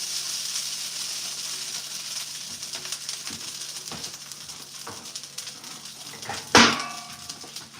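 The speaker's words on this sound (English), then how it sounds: "Y'all hear that sizzle?" Fried rice sizzling in a pan at home, a steady broadband hiss running throughout with faint clinks, and one sharp metallic clatter near the end.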